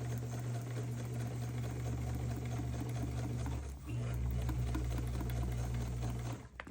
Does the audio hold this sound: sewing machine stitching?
yes